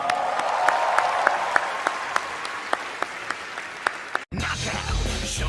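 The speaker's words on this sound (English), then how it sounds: "Huge round of applause." Audience applause at a comedy roast show, a steady dense clapping roll from a large crowd with sharp individual claps poking through, cutting off abruptly near the end into a different, rougher crowd noise.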